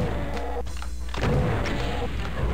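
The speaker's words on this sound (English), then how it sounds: "Just basically fire rockets at them" Rocket launcher blasts booming against Revenants in Doom's Plutonia Experiment, a few heavy thuds and explosions amid retro game noise.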